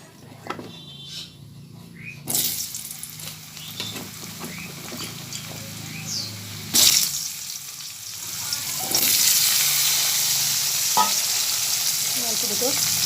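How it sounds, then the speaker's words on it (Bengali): Potatoes fry in a pan of oil already darkened from frying shrimp and pointed gourd, a steady sizzle with stirring scrapes that grows louder and fuller toward the end. "এবার আলুগুলোকে ভেজে তুলে নেব"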